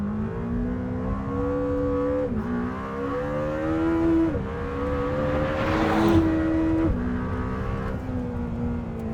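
A Lamborghini Temerario prototype's powerful engine revs and surges continuously while driving, pitch rising and dropping through several gear shifts toward 10,000 rpm, loud and close throughout.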